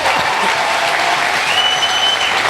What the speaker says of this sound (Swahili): So pigia Yesu makofi.